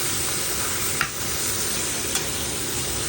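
Beef pares being stirred in a pan of hot oil, a steady close sizzle with a couple of brief utensil scrapes against the pan.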